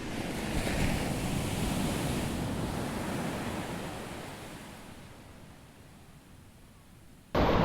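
Surf washes onto the shingle of Chesil Beach at Abbotsbury, a broad continuous roar mixed with wind buffeting the microphone, slowly fading before a sudden loud gust at the end.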